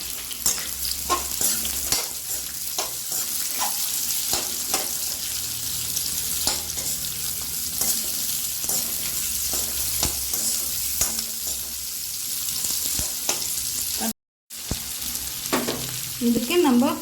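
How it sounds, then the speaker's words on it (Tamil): Onions being sautéed in a pan for chana masala, a steady, close sizzle with repeated scraping stir strokes throughout, broken by a brief silent gap near the end before the frying resumes. "இப்போ இந்த வெங்காயத்தை போட்டு நல்லா வதக்கிக்கலாம்"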